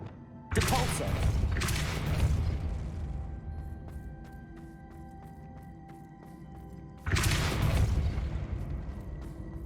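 The Depulso spell is cast twice in Hogwarts Legacy, each time a loud booming whoosh that fades into a ringing, tonal tail.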